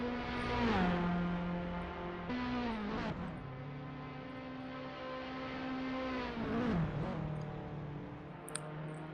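Alfa Romeo race cars with 1.4 MultiAir engines run in a Formula Alfa racing league at Monza. A steady, fairly faint engine drone dips in pitch with each gear change, and no one speaks.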